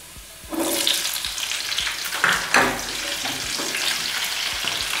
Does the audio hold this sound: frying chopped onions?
yes